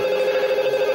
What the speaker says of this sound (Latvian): Tas ir mūsu telefons.